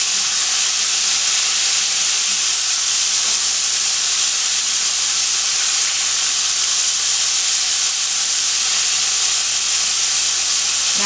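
Cubed steak sizzles steadily in a pan over medium-high heat after being turned, a continuous loud hissing fry with no voices, holding even throughout.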